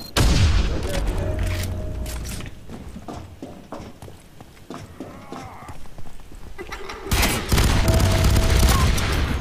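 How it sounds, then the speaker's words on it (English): Grenade blast and gunfire in a FEAR 3 multiplayer match, a busy mix of booming detonations, rattling shots and mechanical clatter, with a sharp loud burst near the end. "Oh god, grenade!"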